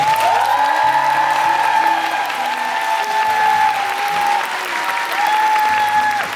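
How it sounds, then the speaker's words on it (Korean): An audience applauds steadily at the close of a show musical's encore performance in a theatre, with dense sustained clapping, a few cheers and whoops, and a voice talking over a microphone underneath. "모두 모두에게 다시 한번 박수 부탁드리겠습니다"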